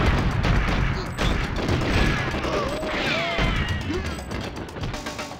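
Gunfire and explosions in the shooter game 007 GoldenEye, during an escape from Russia: dense, loud bursts of shots, crashes and booms stacked closely together, with chirping whistles and a voice speaking over the chaos.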